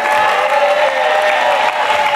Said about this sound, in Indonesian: tepuk tangan dulu untuk Shanla.